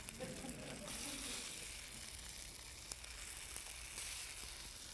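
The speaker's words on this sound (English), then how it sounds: "Can you hear the sizzling sound?" Dim sum dumplings lightly coated in cornstarch fry in a pan over medium-low heat, giving a faint, steady crackling sizzle with occasional small pops.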